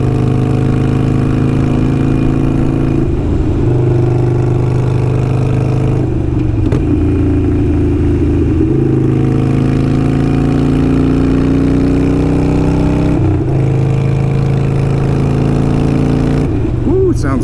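A Harley-Davidson Iron 883 fitted with Kinetic 540 Laterals exhaust rumbles loudly and steadily on new tires while being ridden. The deep, throbbing note breaks off briefly at several gear shifts before settling back in.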